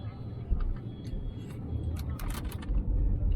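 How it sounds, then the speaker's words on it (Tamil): Heavy road traffic rumbles outside a car on a highway between Chennai and Sabarimala, a steady low drone of passing vehicles with faint clinks and a brief hiss, with no talk. "செம்ம டிராஃபிக்காக இருக்கு."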